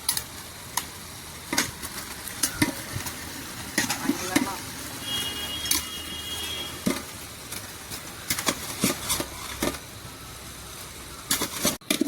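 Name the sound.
chicken being mixed into a frying pot for Malabar biryani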